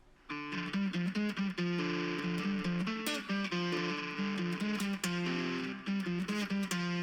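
A distorted electric guitar plays a chunky riff with steady, loud strummed chords, thick and saturated, running continuously with no voices.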